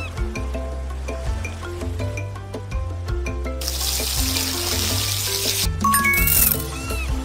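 Water runs steadily for a rinse in a kids' hair salon and spa video game set on a Hawaii trip, a continuous faucet-like wash layered over bright game music, with a brighter splashing burst midway.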